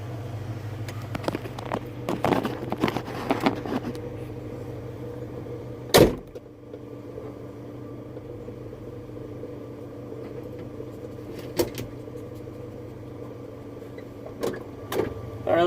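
A Ford Ranger pickup idles with a steady low engine drone heard from inside the cab, with a sharp thump near the middle and scattered light clicks and knocks.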